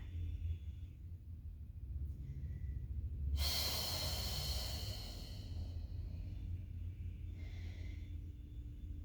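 Breathing during a yoga exercise: a steady, soft rush of air with one louder, longer exhale near the middle and a fainter breath toward the end, set against a low background rumble.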